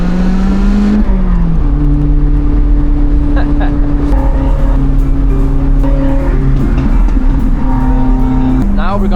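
Car driving along a road, steady loud engine hum with tonal drone and gear-like pitch steps, continuous throughout.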